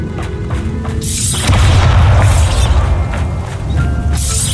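A Bombarda spell explodes in Hogwarts Legacy, a loud, sustained booming blast with crashing debris that rumbles for several seconds at close range, with no talk over it.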